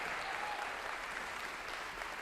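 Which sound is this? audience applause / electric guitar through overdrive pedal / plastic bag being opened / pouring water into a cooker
audience applause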